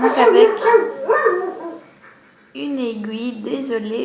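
A pet dog vocalizes in a room where a woman is sculpting polymer clay, giving a short run of tonal, whining barks right after she speaks in French.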